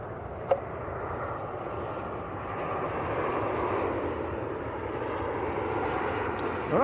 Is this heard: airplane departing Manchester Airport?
yes